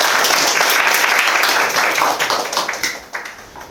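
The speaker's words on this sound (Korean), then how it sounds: "큰 박수로 한번 부탁드리겠습니다" Applause from an audience at a Korean talk on startup crowdfunding: dense, steady clapping fills the room for several seconds, then thins out and fades near the end.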